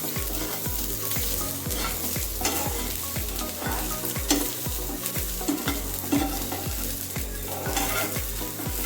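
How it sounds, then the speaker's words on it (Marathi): Grated coconut and onion roasting in a pan: a steady close sizzle with regular scraping stirs about every half second. No voice is heard. "आपण त्याच्यात आता हे खोबरं टाकणार आहोत आणि ते लाल होईपर्यंत, चॉकलेटी होईपर्यंत भाजून घेतो."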